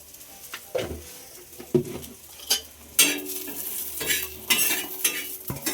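Jowar roti meal ingredients being stirred and fried in a pan, with scattered spoon scrapes and clinks over a soft sizzle that grows busier and louder partway through.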